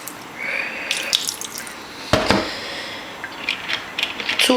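White vinegar splashing onto Puerto Rican-style pork chops during prep, two short liquid splashes with a sharp burst in the middle, close and fairly loud over a steady kitchen background.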